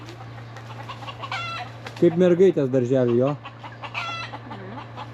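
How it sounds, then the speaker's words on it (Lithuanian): Chickens cluck and squabble in a noisy burst at a Thai resort, sharp harsh calls flaring loudly mid-clip over a steady low hum, with a voice talking nearby. "vištos susipyko"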